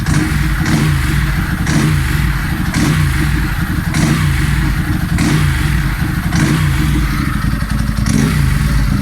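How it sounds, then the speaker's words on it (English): A Ducati motorcycle engine runs loud and close, idling with a steady throb and blipping the throttle in regular revving bursts. "That is the best sound motorbikes make."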